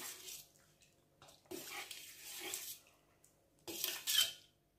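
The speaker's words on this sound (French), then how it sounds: "Je vais rajouter de l'eau chaude. Je vais bien mélanger le tout." Seeds are stirred with hot water in a bowl to loosen sand from them. Faint swishing and light clinks come in several short bursts, with quiet pauses between.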